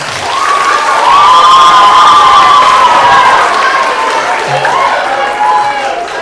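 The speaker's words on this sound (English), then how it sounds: "Let's give him another round of applause." A school awards ceremony crowd cheers and shouts loudly and continuously, with whoops and calls riding over applause; no separate speaker comes through.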